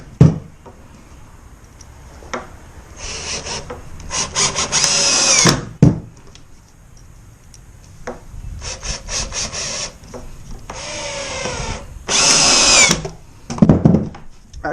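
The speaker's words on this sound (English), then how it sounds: "next steps will be to start drilling the holes in the floor" Power drill boring holes into the wooden floor of a raised garden bed, several bursts of whining drilling separated by pauses and handling knocks, close and fairly loud.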